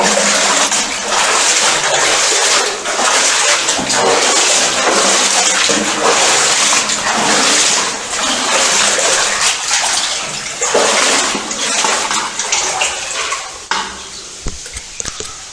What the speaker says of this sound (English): there's a load of water in the distance. Falling from the shaft or something.